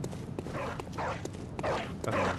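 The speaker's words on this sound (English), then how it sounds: "You see the dog barking outside of the door" Dog barking behind a door in Bloodborne, four muffled, evenly spaced barks at moderate distance over low game ambience.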